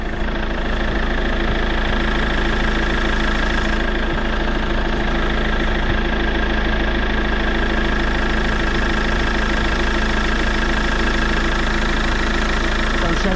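A car engine idles steadily with a broken, leaking radiator, a constant loud mechanical hum with a faint knock, close and unbroken, on a remote road in Chilean Patagonia.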